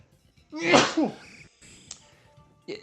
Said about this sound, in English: I'm going to sneeze, hang on.